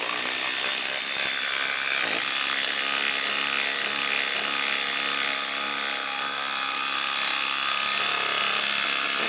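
A Ryobi PBLID02 cordless impact driver drives a lag screw into wood, giving a continuous, loud rattling hammer-and-whine that runs steadily for several seconds without pause.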